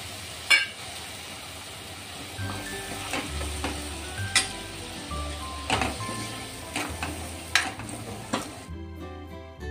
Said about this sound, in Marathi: हे शेंगा उकळलेलं पाणी आहे, ते गरम पाणी टाकतोय आपण।